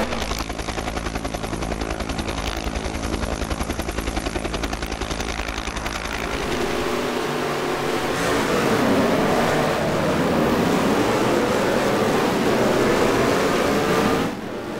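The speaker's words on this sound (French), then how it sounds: "avec la Ferrari également équipée d'un V12" Ferrari V12 Can-Am race car from 1971 in the racing sim Automobilista, a loud continuous engine drone that shifts from a buzzing, rapid pulse to a smoother, rising howl as it accelerates, alone without voices.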